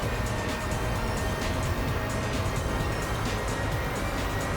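A car drives in Gran Turismo 4, its engine a steady, loud drone that holds at a constant pitch for the whole stretch, with no talk over it.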